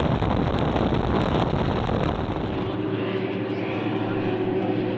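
Supercat outboard race boats roar past in a close battle, a loud broadband engine blast that fades into a steadier distant drone with wind buffeting.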